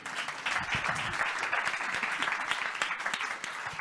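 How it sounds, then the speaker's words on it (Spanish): An audience applauds at a live event, a dense, sustained crowd clapping that holds steady for several seconds before easing slightly at the end. "me acabo de ganar el primer aplauso del año"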